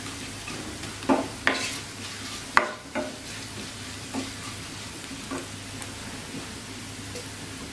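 Onions and garlic frying golden brown in a pan for a Bengali hilsa-head kochu shak dish, a low steady sizzle broken by a few sharp stirring clinks and scrapes, close and without voices.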